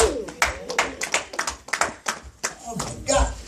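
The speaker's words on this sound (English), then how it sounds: "Give yourself a round of applause because you are there." A church congregation claps for itself during a sermon, a brief burst of loud, close, uneven handclaps mixed with voices talking over it.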